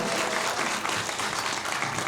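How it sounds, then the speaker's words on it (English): Audience applause and a standing ovation at an evening gratitude event, a dense, steady wash of many hands clapping close and continuous without pause. "please give them a round of applause and a standing ovation"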